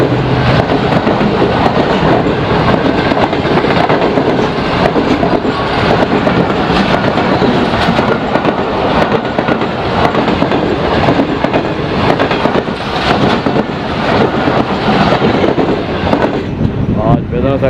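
A GE U40 diesel locomotive, number 9011, hauls a passing train with a loud, continuous rumble and steady clickety-clack of wheels on rail that lasts throughout, with a voice faintly under the din.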